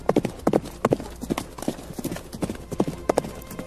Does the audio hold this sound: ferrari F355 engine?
no